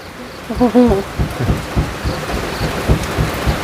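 Rain falling steadily on a rural Thai homestead, with several dull thumps that could be distant thunder and a short voice or animal call near the start.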